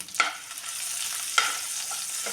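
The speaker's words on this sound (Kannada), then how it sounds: "ಇದು ಚೆನ್ನಾಗಿ ಎಣ್ಣೆಯಲ್ಲಿ ಫ್ರೈ ಆಗಬೇಕು" Dry and green chillies with asafoetida fry in hot oil, making a steady close sizzle with two distinct stirring scrapes over a short stretch.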